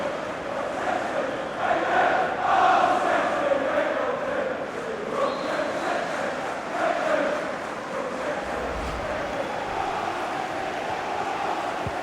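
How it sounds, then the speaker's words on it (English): Manchester City supporters roar from the stands in a FIFA 21 Premier League match, a broad, steady crowd noise that swells for a moment and then holds at a constant background level. "just listen to these City fans"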